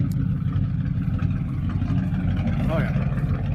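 A 1952 Ford F1 truck engine running just after a cold start, a steady low rumbling idle close by and fairly loud, with a voice briefly speaking over it near the end.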